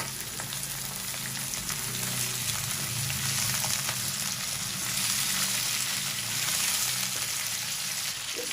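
Beef, about three pounds of meat, frying in a pan with onions already browned to golden, giving a steady, close hissing sizzle with no one speaking.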